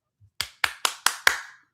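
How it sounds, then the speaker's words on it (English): Five sharp hand claps ring out close and loud at an even, slightly quickening pace, each with a short ringing decay, after a brief quiet start. "I'm clapping for you"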